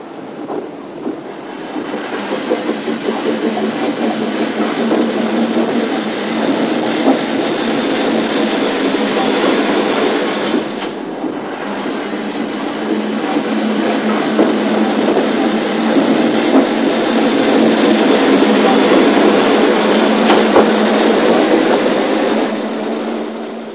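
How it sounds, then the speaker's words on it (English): A narrow gauge steam train double-headed by two locomotives runs into Dolgoch in the 1960s, giving a steady, loud, continuous rumble and clatter that carries on for the whole stretch without talk. "he gave chase in order to film the train again running into Dolgok."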